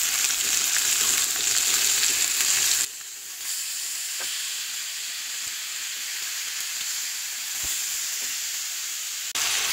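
Beef steak pieces sizzle steadily in a pan with masala as they are turned over, a loud frying hiss at first that settles to a quieter, continuous sizzle with a few sharp crackles and pops.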